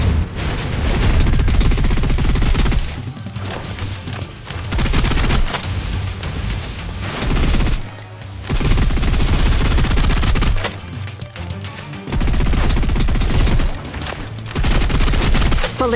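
Sustained suppressive automatic gunfire in Snowbreak: Containment Zone on PC, loud dense volleys roaring in long stretches broken by short pauses, with little speech.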